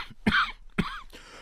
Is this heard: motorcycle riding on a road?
no